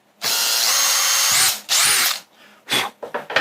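Power drill drilling a hole in a cooler, heard as a loud, sustained whine, a brief pause, a second shorter burst, then a few quick stuttering pulses as the trigger is tapped.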